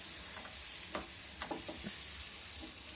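A steady, close hiss of a puran poli flatbread sizzling on a hot griddle, with a few soft scraping touches over the constant frying noise.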